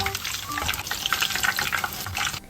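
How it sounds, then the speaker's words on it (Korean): Loud, steady sizzling and crackling of tofu and shiitake mushrooms deep-frying in hot oil, with light bubbling throughout. "튀김 소리 너무 좋다."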